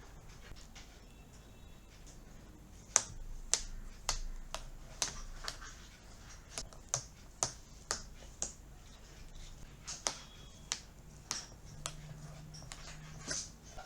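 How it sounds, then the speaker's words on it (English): A small magnetic jumping frog toy clicks repeatedly as it hops over magnets hidden under a plastic strip, giving sharp, close taps at irregular intervals over a quiet background. "So let's see how this frog jumps over these magnets."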